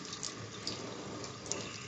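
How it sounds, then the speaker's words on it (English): Water runs steadily from a backflow test kit as the high side bleed valve is opened on a double check valve assembly, a constant, close hiss of flowing water with no talk. "I'm going to purge some water out of the test kit"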